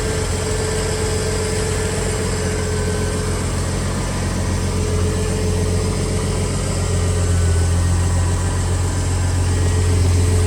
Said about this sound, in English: They're idling like it is a brand new truck